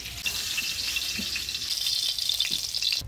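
Eggs seasoned with turmeric and salt sizzle steadily in a hot pan, a constant bright frying hiss with small pops and faint stirring, close and alone without talk.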